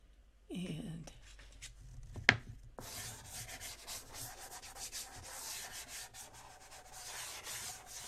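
A chalk pastel rubs and scratches across paper at close range, starting with a few light strokes and then settling into continuous, quiet scraping.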